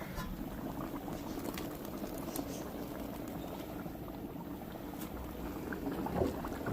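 Liquid bubbling at a steady boil in a pot of barbacoa with beef tongue, a dense low churning texture with occasional pops, close and continuous.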